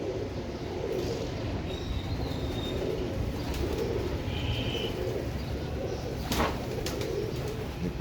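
Feroze Puri female pigeon cooing, soft repeated low coos close by over a steady background hum, with a brief flutter partway through.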